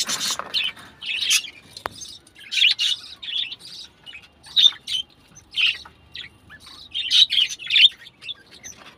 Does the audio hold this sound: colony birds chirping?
yes